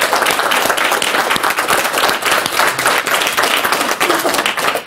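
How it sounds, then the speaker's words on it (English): Audience applause fills the room at a talk on climate and diet, a loud, dense wash of clapping that holds steady throughout with no voices. "Give a round of applause for that."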